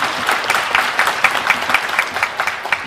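Audience applause at a band's 40th-anniversary jubilee concert, a dense, lively patter of many hands clapping at once, steady and fairly loud throughout.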